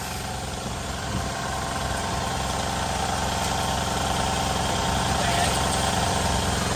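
Small motorized pesticide sprayer engine running steadily at a constant idle-like drone, loud and close, with no pauses.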